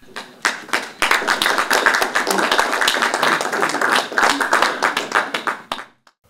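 A lecture audience bursts into loud applause as a speaker takes the stage, individual claps sharp and close, building quickly and continuing for several seconds before stopping abruptly.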